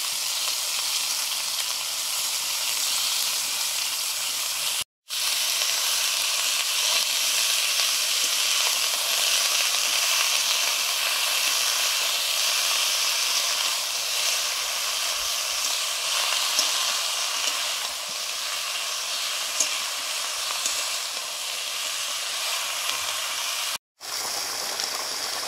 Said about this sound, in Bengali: এবারে দিচ্ছি বাঁধাকপি